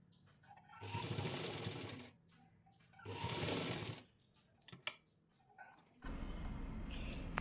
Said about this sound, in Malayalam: ഇതുപോലെ നല്ല രീതിയിൽ വെച്ചതിന് ശേഷം താഴേക്ക് സ്റ്റിച്ച് ചെയ്യുക